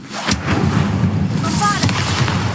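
Incendio fire spell cast in a Hogwarts video game: a loud, sharp burst opens into a roaring, crackling whoosh of flame lasting about two seconds, with a couple of brief whistling tones mixed in.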